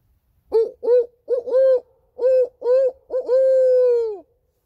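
An owl hoots in a rhythmic series of clear, resonant calls, short paired hoots building to a long drawn-out final hoot, close and isolated against a quiet background.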